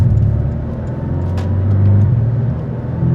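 A deep, bassy 2019 Porsche 718 Cayman engine with PDK gearbox rumbles steadily at close range, with a low burbling swell in the middle as the revs settle between gear changes.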